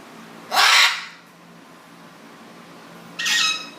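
A macaw in a walk-in aviary gives two loud, harsh squawks close by, separated by a few seconds of quiet.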